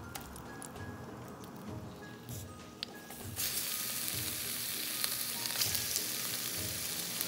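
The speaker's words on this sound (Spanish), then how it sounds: "vamos a agregarle muy poquito aceite y vamos a agregar nuestro" Diced bacon fries in a little oil in a saucepan, a soft crackle that jumps to a louder, fuller continuous sizzle partway through, close and without voices.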